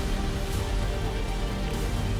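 Heavy monsoon rain pours steadily over waterlogged low-lying streets in Valsad, Gujarat, a dense continuous hiss with no voices.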